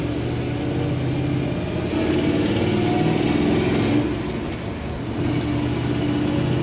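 Low exhaust rumble from a 1966 Chevrolet C10 pickup truck engine, a steady mid-loud drone that swells slightly and holds throughout, with no voices.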